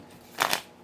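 Tarot cards are shuffled in two quick riffling bursts, a soft, close papery flutter that stands clear of the quiet background, with no talking.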